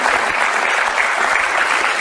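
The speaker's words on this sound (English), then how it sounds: "Let's give him a round of applause" Audience applause at an affirmation workshop, a steady, full wash of many hands clapping together, continuous and fairly close for the whole stretch with no voices on top.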